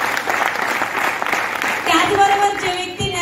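A crowd claps for a speaker at a direct-selling business event, a dense, steady patter of applause under background music that gives way to a sustained tone near the end.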